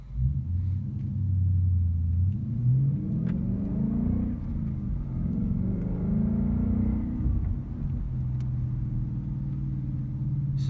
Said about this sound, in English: So you can definitely hear the exhaust, but it's not overbearing on the interior.